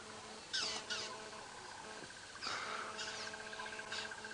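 A drongo calling from the bush during a sunrise safari drive, a few short chirping and whistled bursts spaced apart with quiet gaps, moderately distant over faint ambient background.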